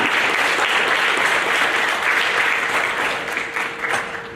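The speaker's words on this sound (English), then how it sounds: "How about a round of applause for our academic excellence award in math?" A school audience at a seventh grade awards program applauds a math academic excellence award, a dense, sustained wash of clapping that holds steady and tapers slightly near the end.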